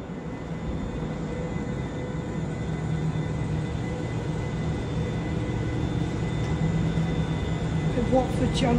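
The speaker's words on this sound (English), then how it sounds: "I could film the train coming in" Caledonian Sleeper train pulling into Watford Junction station, a steady low rumble and rolling clatter that builds slightly as it arrives, with a faint high squeal near the end.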